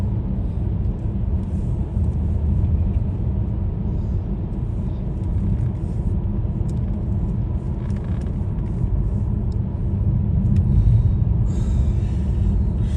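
Car climbing a hill on a country road near Bowman, Georgia, its engine a steady, loud low rumble that runs throughout with no voices.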